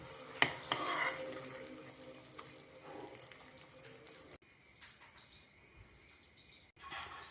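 Chicken gravy is stirred in a pan after curry leaves go in, a spoon scraping and swishing through thick sauce with soft sizzling, busier at first, then a quieter stretch with lighter scrapes before a final stir.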